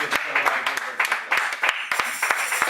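A church congregation claps together in acclamation of the Lord during a Sunday worship service, a brisk rhythmic clapping that runs steadily throughout and mixes with voices.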